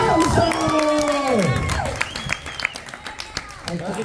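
A live audience at a Spanish-language comedy game show bursts into loud cheering and clapping, with long shouted whoops and rising yells up front, then scattered claps continuing as the noise settles.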